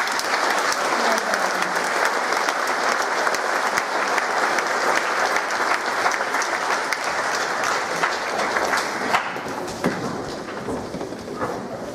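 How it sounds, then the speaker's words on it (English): Sustained applause from a school audience at a junior prizegiving ceremony, steady dense clapping filling the whole stretch at a loud, even level, thinning slightly near the end. "give them a round of applause"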